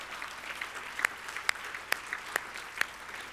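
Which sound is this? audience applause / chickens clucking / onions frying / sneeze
audience applause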